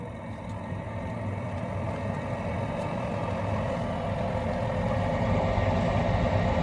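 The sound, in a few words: furnace induced draft fan motor starting up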